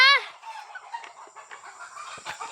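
Free-range farm chickens cluck in a short burst up close at the start, then quieter fowl calls and light rustling continue faintly behind.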